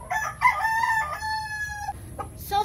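A rooster among chickens kept in battery-type breeding cages crows once, long and loud at close range, followed by short clucks from the caged birds.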